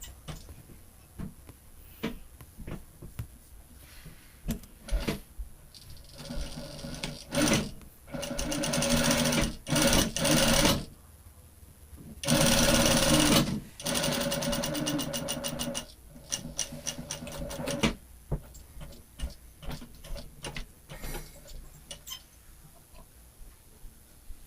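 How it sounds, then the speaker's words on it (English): A sewing machine stitches a French seam on an inseam pocket, top to bottom, in stop-start bursts of rapid mechanical whirring and ticking. Short pauses and a few longer runs follow, close up and with no voices. "I will do the stitching now from the top to the bottom."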